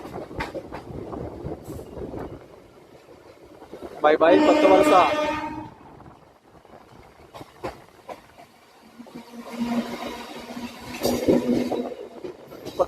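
A MEMU passenger train pulls out of Kottavalasa junction, with a rumbling run of rail noise and rising mechanical sound building near the end, while someone talks over it.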